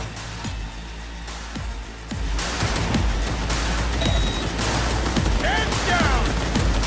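A squad fires guns in a Cyberpunk 2077 battle, with rapid overlapping shots and bursts continuing throughout, growing denser and louder halfway through, with brief game sounds over the top.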